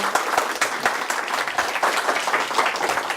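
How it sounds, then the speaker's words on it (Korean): A large audience claps loudly and continuously at a Korean public forum after a question-and-answer session, a thick, even wash of many hands with no speech on top. "답변해주신 정세균 의장님께 다시 한번 큰 박수 부탁드립니다."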